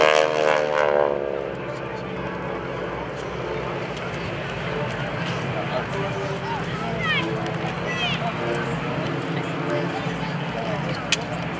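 GEICO Skytypers propeller aircraft flying in formation at an airshow make a continuous engine drone that swells and fades overhead, heard under an announcer's commentary.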